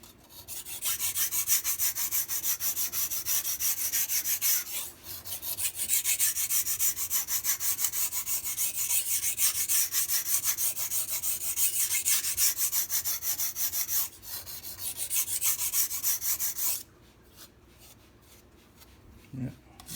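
A MAC chef knife is sharpened with long continuous abrasive strokes across a stone, a bright rasping scrape running several seconds at a time with brief pauses between passes, close and loud, then quieting near the end.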